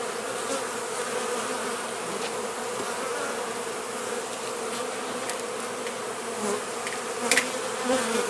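A dense, steady buzz of many calm honeybees in an opened hive during an August inspection hums continuously, close and even, with no voices.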